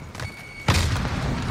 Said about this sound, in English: Throwing out a grenade.